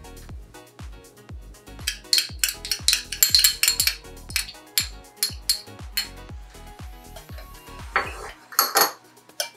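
A spoon clanks rapidly against a bowl while stirring chopped garlic into soy sauce, with a quick regular run of metallic clinks close up and no talk.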